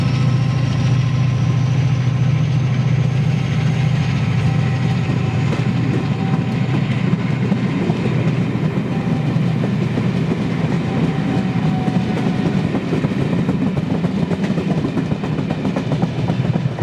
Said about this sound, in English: Coming in now is our train out of here